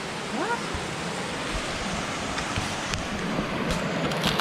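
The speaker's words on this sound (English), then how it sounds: "you might be able to just make out the water that's gushing down there. That's coming from Waterfall" Water gushing down a waterfall in Finch Hatton Gorge, a steady broadband rush heard from a distance that fills the whole clip without a break.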